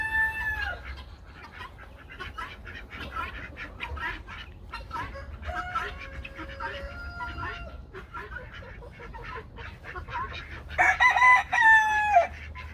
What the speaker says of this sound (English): The ducky roosters are in here.